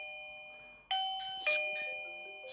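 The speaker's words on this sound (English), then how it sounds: "Press the doorbell." Chime from an AOSU Video Doorbell Ultra pressed at a front door: two clear, bright ding-dong tones ringing out close and fairly quiet, with no talking.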